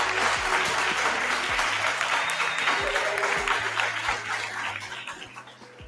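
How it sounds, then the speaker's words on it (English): Sustained audience applause after a presentation, a steady wash of many hands clapping with a faint low hum beneath, tapering slightly toward the end. "Let's give Antu another round of applause."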